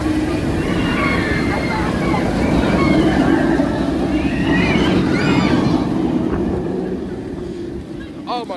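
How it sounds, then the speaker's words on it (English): Nemesis roller coaster at Alton Towers rushes past its waterfalls, a broad whooshing rumble over steady falling water, swelling midway and fading, with faint screams and talk nearby. "Nemesis going round. I have to see it go around its waterfalls."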